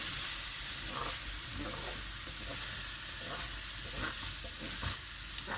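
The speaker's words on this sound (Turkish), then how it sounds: "Şöyle pirincimi ekliyorum. Pirincimle güzelce kavuracağım." Rice is stirred and toasted with tomato paste in a hot pan for stuffed cabbage rolls in olive oil, with a steady sizzle under repeated scraping spoon strokes.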